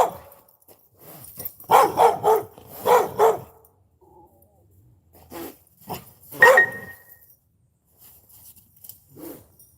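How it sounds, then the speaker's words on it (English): A dog barks outdoors in several sharp bursts, a quick cluster of barks followed by a pause, then a few more scattered barks, fairly close and loud against a quiet background. "She's going to keep barking at me now."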